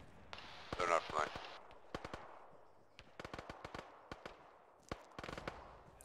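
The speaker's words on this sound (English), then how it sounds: "They're shooting at us." Gunfire in the Arma military video game: scattered bursts and single cracks of rifle and machine-gun fire, some sharp and near, others softer and farther off, with voices talking among the shots.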